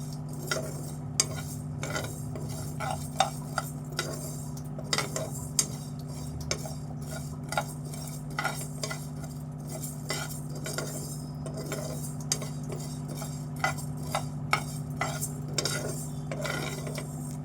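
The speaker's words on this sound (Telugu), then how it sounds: "ఒక చెంచా మెంతులు ఇవన్నీ కూడా దూరగా వేయించుకోవాలి" Fenugreek seeds dry-roasting in a pan for a drumstick chutney, stirred with a metal spoon: repeated sharp scraping clinks against the pan over a steady low hum, close and moderately loud, with no talking.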